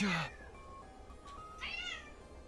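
A cat in the video game The Hundred Line lets out two short meows, one at the start and a higher one near the end, against a quiet background.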